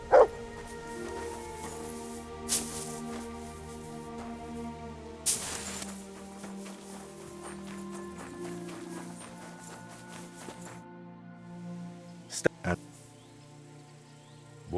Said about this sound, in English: Good dog, Mats.